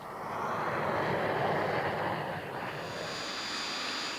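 A test aircraft climbs after takeoff with a steady, loud broadband engine roar that holds without a break and shifts slightly in tone as it continues.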